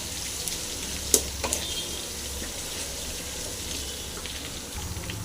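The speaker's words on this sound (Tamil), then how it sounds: "வெங்காயம் போட்டு நல்லா ஃப்ரை ஆகட்டுது" Onions frying in a pan with garlic for a valai thandu (banana stem) kootu: a steady, broad hiss of sizzling oil throughout, with a couple of brief sharper clicks near the start.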